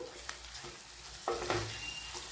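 Sev is stirred with chili powder and salt in a pan. There is a soft, low sizzle and a few quiet scrapes and clicks of the spoon, with no voices.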